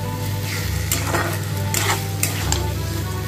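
Spice masala for an egg and potato dalna is sautéed and stirred in a pan with a steady sizzle, while a spoon scrapes through it in several strokes. The sound is close and continuous, with no talking.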